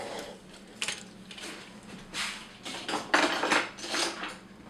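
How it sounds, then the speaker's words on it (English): Small plastic toy accessories from a transforming robot figure clatter and clink as they are set down one after another on a shelf, fairly quiet and close. "just setting those on a shelf there"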